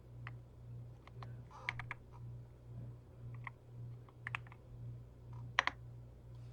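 Light typing on a computer keyboard, a few quiet scattered keystrokes and short clusters of clicks over a steady low hum, with no talking.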